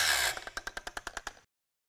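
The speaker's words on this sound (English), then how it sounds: "So this is the brushed angle grinder." A brushed cordless angle grinder whines loudly, then bogs down into a rapid series of about ten rhythmic pulses as it is stalled out, ending in sudden silence.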